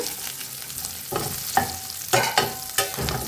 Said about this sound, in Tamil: பச்சை பச்சைக்காவும் காஞ்ச மிளகாவும் இதை போடுறோம்